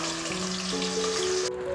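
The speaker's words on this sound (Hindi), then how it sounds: "अब हमारे आलू अच्छे से फ्राई हो गए हैं" Potatoes frying in oil in a covered pan for aloo dum biryani, a steady close sizzle that carries on throughout and dulls slightly near the end.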